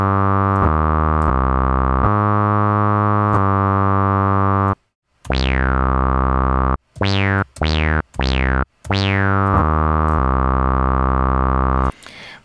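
A run of sustained synthesizer notes, some held while others retrigger with a sweeping filter that opens bright and closes down, played alone at steady loudness.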